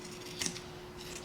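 Scissors make one quick, close snip partway through, cutting fabric across, against a quiet background with no talking.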